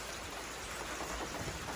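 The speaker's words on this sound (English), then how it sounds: "here comes the rain" Steady rain shower falling outdoors near a metal carport and pickup truck, a continuous even hiss of drops on surfaces with no talking.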